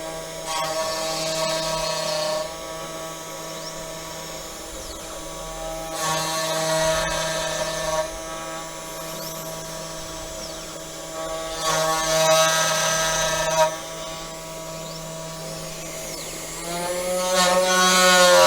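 A Sainsmart CNC 4040 Pro spindle motor, rated 500 watts and used as an overhead router, makes a steady high tonal whine that swells louder as the cutter bites in several passes and rises in pitch near the end, close and continuous, no talk.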